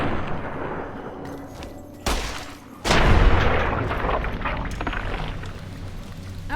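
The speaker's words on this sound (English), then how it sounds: "stop using the grenades" Two loud, close grenade explosions in Fallout New Vegas boom a second apart, the second with a longer rumbling tail, amid continuous background combat noise.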